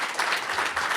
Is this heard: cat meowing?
no